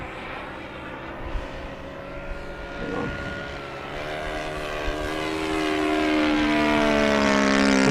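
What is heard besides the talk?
FMS 1700mm Corsair V3 RC airplane propeller engine landing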